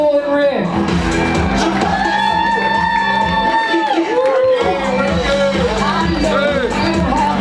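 Wedding guests at a reception cheer, whoop and applaud loudly as a couple makes their entrance, with a crowd of shouting voices and music continuing throughout.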